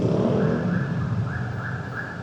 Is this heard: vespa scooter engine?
yes